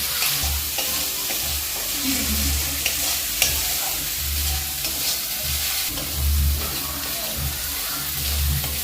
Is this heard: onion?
yes